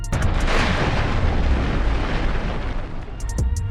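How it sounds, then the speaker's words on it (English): A huge explosion from a LEGO build, a loud roaring boom that fills the whole clip with dense rumbling and crackle, holding steady before tapering slightly near the end, with no speech. "look at that explosion, it's so huge! This looks so real, this honestly deserves a replay"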